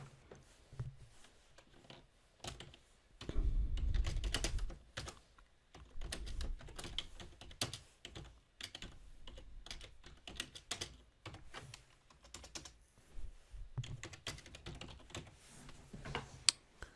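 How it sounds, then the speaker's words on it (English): Fingers tap away on a computer keyboard in quick irregular bursts of clicky keystrokes, close and clear, with brief pauses between runs and a few heavier thumps. "do some typing."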